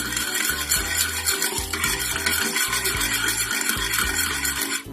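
Spoon stirring sugar and light soy sauce in a bowl to dissolve for a Thai vegetarian lime salad, a continuous rhythmic scraping and rubbing, close and alone without talk.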